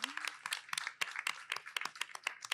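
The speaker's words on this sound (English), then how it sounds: "Okay, let's give all of our competitors a round of applause." Faint, sparse clapping from a small audience for competitors at a venture challenge final round, individual claps distinct and irregular.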